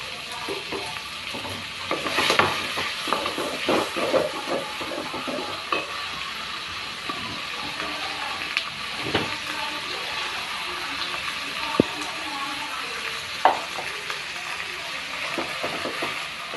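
Crushed garlic and chopped tomato sauté in a hot pan for a chicken gravy, a continuous sizzle broken by stirring scrapes and occasional clinks of utensil on metal, close by with no voices.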